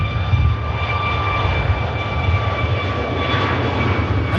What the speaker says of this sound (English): I think we can hear spooling up in the background,